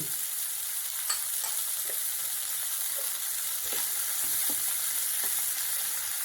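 Boiled potatoes and green peas sizzle steadily in a pan as they cook, a constant close frying hiss with a few soft clicks and stirring taps, no voices.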